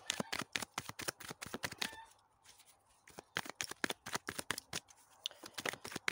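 Tarot cards are shuffled close by in quick, crisp riffling bursts, their rapid papery slaps pausing briefly midway before the shuffling resumes.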